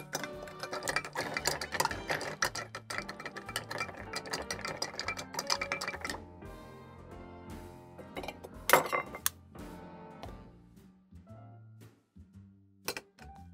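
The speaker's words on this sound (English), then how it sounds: "Now we're gonna add some ice. Just stir for 20 seconds." Ice clinks and rattles steadily against a mixing glass as a White Negroni is stirred, a rapid ticking swirl that fades to occasional scattered clinks.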